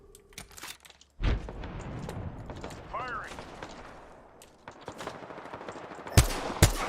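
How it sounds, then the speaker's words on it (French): Bursts of gunfire from the video game Apex Legends crackle in rapid, uneven volleys, with sharp loud shots near the end, while players talk in the background. "y'a des gens qui tirent dessus"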